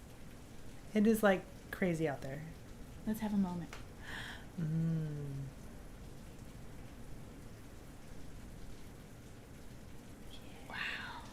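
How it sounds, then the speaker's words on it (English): Heavy rain pours outside in a steady, soft hiss that continues throughout, while people talk and murmur over it early on and a quieter stretch of rain follows. "Aw, you guys get to enjoy the rain with us. It is like crazy out there."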